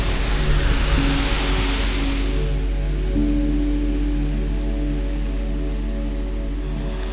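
A waterfall in southern Africa roars as a broad, continuous rush of falling water, loud and steady, with a low droning hum running underneath throughout.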